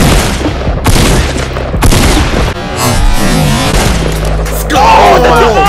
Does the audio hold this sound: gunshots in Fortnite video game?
yes